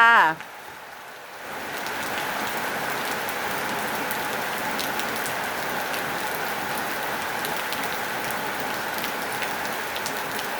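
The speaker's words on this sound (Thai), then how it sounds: "ชมบรรยากาศฝนตกจ้า" Heavy rain falls without letup at a house front, a thick, even wash of patter on nearby surfaces that stays constant throughout.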